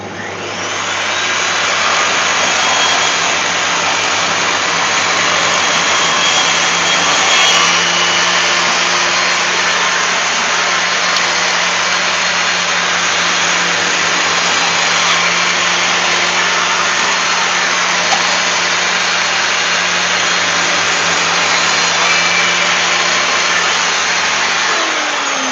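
Scrap wood is fed through a saw against the fence. A loud, steady motor whine runs continuously and close for the whole stretch, with no voices.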